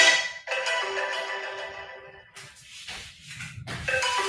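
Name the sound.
watch alarm ringing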